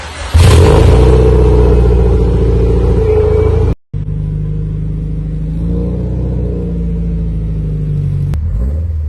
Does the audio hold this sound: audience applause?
no